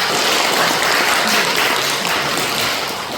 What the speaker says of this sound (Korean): 동의하시면 박수 한번 좀 쳐주셔야 돼요